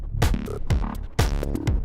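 Reverb whose size is modulated by a stepped random signal in an industrial modular synth patch, giving a fluttery, wobbling tail over repeated thumping percussive hits with pitch-dropping kicks, loud and alone.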